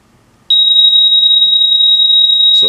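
A steady, piercing electronic buzzer tone driven by a 555 timer on a Titan II missile silo blast door control panel switches on abruptly and holds continuously, loud and close, with a faint click near the end.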